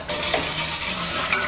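Bacon frying and crisping in a pan, a dense, loud, continuous sizzle with faint scraping of a utensil, close up and without talking.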